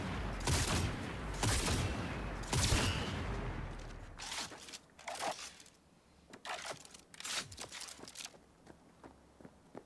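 Gunfire in the video game Cyberpunk 2077, heavy bursts of shots at the start giving way to scattered single cracks and crunchy impacts, loud then fading to sparse, separate hits, with no talk.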